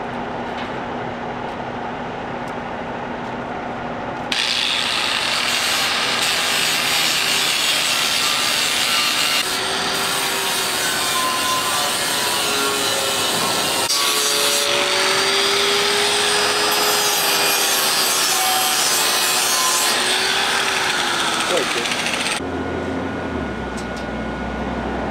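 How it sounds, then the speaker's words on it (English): A gas pump is sanded with a steady, loud power-sanding roar that runs for about twenty seconds, with a quieter mechanical hum before and after it. "we just sand it a little"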